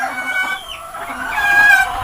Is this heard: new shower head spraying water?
no